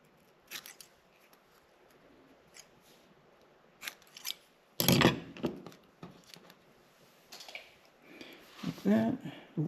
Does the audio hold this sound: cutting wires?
yes